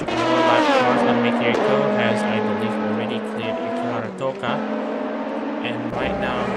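Race cars running laps at Okayama circuit in a sim racing event, steady engine drone with shifting gear pitches close by, a brief dip midway, and a commentator talking over it throughout.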